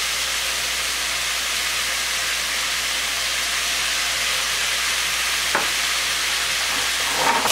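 Bitter melon (nigauri) and pork sautéing in a pan, a constant loud sizzle and hiss of frying with a brief clink of a utensil near the end, no talk.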